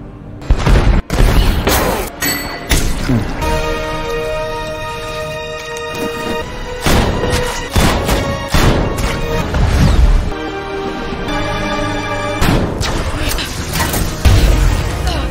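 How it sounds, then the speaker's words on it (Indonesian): Gunfire in a film shootout, a rapid series of loud sharp shots and booming blasts over a dense musical score, with a brief voice near the start. "Roland akhirnya bisa menembak Walter berkali-kali hingga dia tewas"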